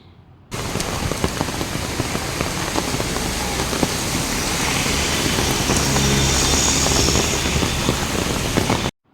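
Heavy rain pouring onto a street, starting abruptly and then holding as a loud, dense, steady hiss of drops with a faint engine rumble beneath, ending suddenly.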